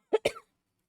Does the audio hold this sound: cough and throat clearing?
yes